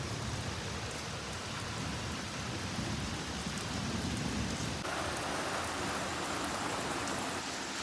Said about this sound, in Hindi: अभी शदीद बारिश हो रही है, तेज़ बारिश